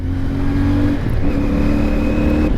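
CF Moto 450MT 450cc motorcycle engine while riding, a smooth steady drone with a brief dip as the pitch shifts, close and continuous, with no talking.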